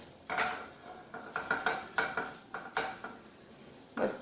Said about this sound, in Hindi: इसमें मैं ये अदरक लहसुन की पेस्ट डाल के पहले जो है थोड़ा भून लूँगी